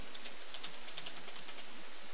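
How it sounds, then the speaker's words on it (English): Fast, steady keystrokes on a computer keyboard, close and continuous clicking with no talk. "When I type, when I create a post,"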